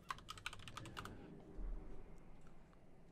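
Quick bursts of keystrokes on a computer keyboard, typed into a search box while playing Classic World of Warcraft, a short run of close, crisp clicks in the first second, then a soft murmur of background noise.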